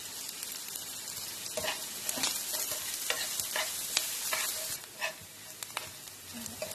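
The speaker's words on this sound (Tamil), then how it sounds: "வெங்காயம் வதங்குற வரைக்கும் நம்ம கிண்டிட்டே இருக்கலாம்." Onions sautéed in a pan with a soft steady sizzle, while a spatula stirs them in repeated scraping strokes roughly every half second, close and fairly quiet, without talk.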